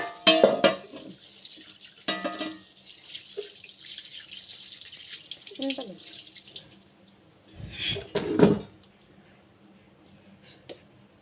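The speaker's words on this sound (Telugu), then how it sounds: "ఇప్పుడు ఇంకోసారి కూడా కడిగేస్తున్నాను రెండు సార్లు కడిగేసుకొని దోశలు అయితే వేసేసుకుందాం" Water from a tap runs in bursts while a cast iron pan is washed in a sink. Splashes and sloshing come and go, with a louder surge near the end and quieter drips between.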